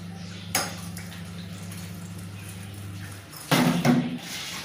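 Dishes, pots and utensils being washed in a rural village kitchen, with two short bursts of clattering metal against a steady low hum, the second clatter louder and closer.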